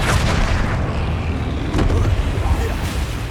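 The Flipendo spell is cast in the Hogwarts Legacy video game, producing a dense, roaring magical burst with deep rumbling booms and a hissing rush, loud and continuous over about three seconds.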